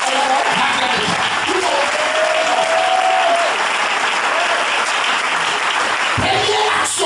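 A congregation at a church service claps loudly and steadily throughout, a dense and continuous wash of applause with faint voices underneath.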